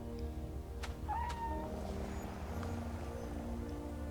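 A cute cat creature card in the MTG Arena video game gives a short, faint meow over a steady low hum of game background sound.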